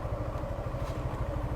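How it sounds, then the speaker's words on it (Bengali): Motorcycles on a road near a hotel and convention hall in Bogura, arriving for a moto fest, rumble steadily and close with a throbbing low engine pulse and no talk. "অনেক বাইক আসছে।"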